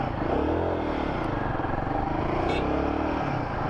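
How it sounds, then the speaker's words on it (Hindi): A Royal Enfield Guerrilla 450 motorcycle being ridden gives a steady, rumbling exhaust note at fairly constant revs, mixed with wind rush, continuous and close throughout. "एग्जॉस्ट साउंड तो बहुत ही जबरदस्त है।"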